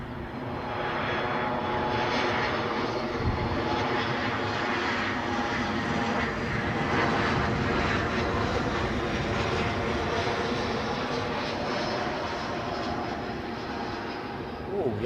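A two-year-old Boeing 737 MAX 8-200 jet from Krakow roars past at Edinburgh Airport, its engine noise loud, broad and sustained throughout, close enough to fill the air evenly.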